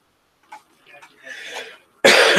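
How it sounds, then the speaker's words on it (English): A single loud cough bursts close to the microphone after a stretch of quiet, murmured talk, strong and abrupt at the very end. "try not to cough on the microphone"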